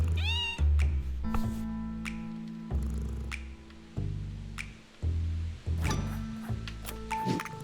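Several cats in the video game Wolfstride meow in turn, clear and close, each cry a short rising or falling call over a steady game music backdrop with occasional light clinks.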